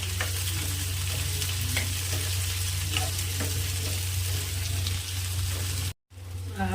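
Fresh okra (bhindi) being stirred and sautéed in a pan with chili gives a loud, steady close sizzle with regular stirring scrapes and a brief cut to quiet near the end.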